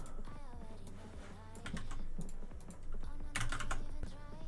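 Keys clatter steadily on a computer keyboard as code is typed, a close, busy patter of clicks layered over a continuous music bed.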